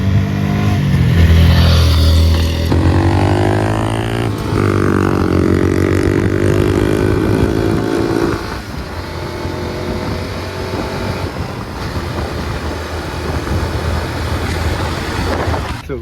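A motorcycle engine roars loudly and drones past with rising and falling pitch, then fades into a softer, steady rumble of the ride continuing.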